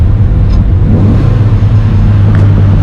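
A 1992 Rover Mini Cooper 1.3 engine hums and revs loudly from inside the car while cornering, a steady droning roar with slight swells, no talking.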